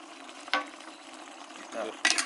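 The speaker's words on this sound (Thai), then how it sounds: "เสียงเดือด ของน้ำนะครับ" A basil stir-fry with chicken blood sizzles and bubbles steadily in a hot pan, with a few louder hissing bursts as the liquid boils.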